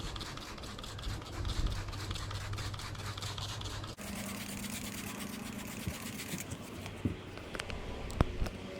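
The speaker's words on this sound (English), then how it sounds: "Here we go, spraying down." Cleaner hisses out in a steady spray as boat seats are soaked, a continuous rushing texture up close, with a short break midway and light clicks and rubbing near the end.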